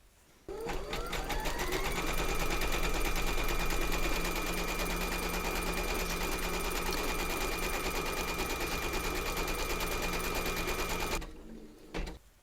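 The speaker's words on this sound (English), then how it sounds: "Pop your hoop into your machine and stitch round number 2 to secure it" An embroidery machine stitches a securing outline through batting taped over a hooped Christmas table runner, a fast steady mechanical chatter running loud and continuous for about eleven seconds before stopping abruptly.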